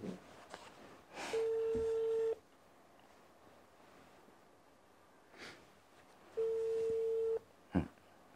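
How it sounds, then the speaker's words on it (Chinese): Two long, steady ringback tones from an outgoing telephone call being placed and connected, each about a second, separated by quiet room noise and a breath, with a short click-like burst at the end. "那我现在呢就电话连线"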